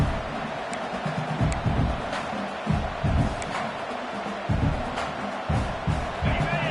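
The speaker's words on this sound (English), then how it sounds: "this crowd is fired up. Listen to this noise here." Loud stadium crowd noise, a steady roar with bursts of cheering and cheers swelling in waves, with low rumbling talk mixed through.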